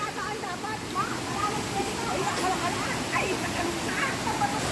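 Tagkuriring Falls in Puerto Princesa, Palawan pours in a steady, broad rush of water close by, with faint voices and splashes scattered over the continuous roar.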